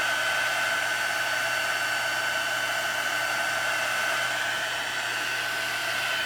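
A heat tool blows hot air to set embossing powder on a handmade card, giving a steady, loud, unbroken whirring rush that lasts throughout with no voices.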